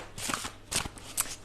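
Oracle cards shuffled by hand before one is drawn, three quick, soft riffling bursts close by.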